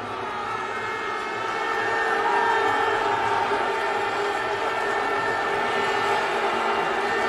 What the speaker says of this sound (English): Crowd responds again.